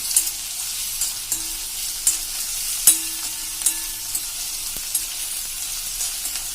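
Green chili paste sautéing in a pan over a medium flame for pav ragdo, a continuous close sizzle broken by occasional sharp spoon taps and stirs against the pan.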